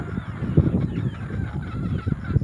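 Chickens in a backyard breeding farm cluck and squawk in short, repeated bursts close by, over a steady background murmur.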